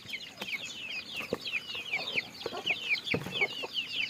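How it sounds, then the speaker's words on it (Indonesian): Chickens cluck and chatter continuously while being fed in the early morning, a busy flock of overlapping calls close by with scattered thumps and shuffling underneath. "jadi kasih makan ayam. Kur. Biar cepet besar, kasih makan ayamnya yang banyak."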